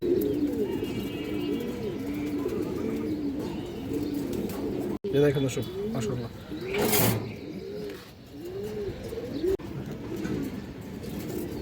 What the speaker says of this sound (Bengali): একটা মাদি কবুতর আছে মাশাআল্লাহ